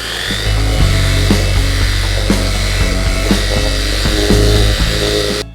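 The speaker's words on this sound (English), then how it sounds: "Might as well clean the trailer tire covers while we're at it." An Imoumlive 21 volt cordless pressure washer cleans trailer tire covers, its motor whining loudly and steadily with a low hum and regular pulsing surges as the spray hits the surface.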